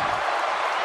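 Arena crowd noise in the wrestling video game WWE 2K16 during a Royal Rumble match, a dense, loud wash of cheering and clapping that stays constant and close throughout the short moment.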